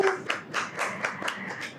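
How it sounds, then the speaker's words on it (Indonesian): Applause at an Indonesian talk show: a small group claps steadily for about two seconds in rhythmic bursts, moderately loud and close, with no talk over it. "Tepuk tangan dulu kali ya Mas Jamal ya."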